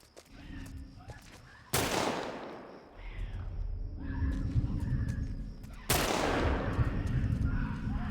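Gunfire in the video game The Last of Us: two loud sharp shots several seconds apart, each with a long decaying crack, over game ambience and scattered background noise.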